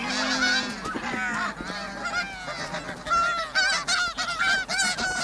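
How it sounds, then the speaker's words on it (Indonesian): Snow geese give high-pitched, honking flight calls in a rapid, overlapping series, the cries loud and close with no voices. "Panggilan penerbangan biasanya terdiri dari serangkaian suara seperti tangisan melengking dan suara kuek-kuek bernada tinggi"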